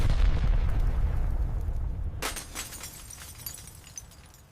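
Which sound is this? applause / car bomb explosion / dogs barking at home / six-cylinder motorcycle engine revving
car bomb explosion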